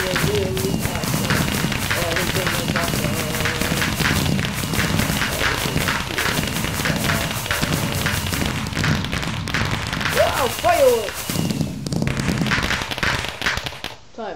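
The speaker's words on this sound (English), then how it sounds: "Fireworks!" Fireworks going off for the 4th of July, a steady crackling, popping din with occasional thumps throughout, close and loud, with excited voices shouting over it.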